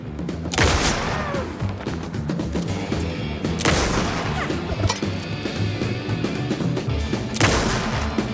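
Gunfire in the video game Alan Wake 2: loud, close shots, with about three sharp blasts spaced a few seconds apart over rumbling, clattering game ambience.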